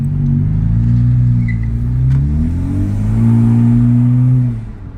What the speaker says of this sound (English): you can hear the fucking intake so much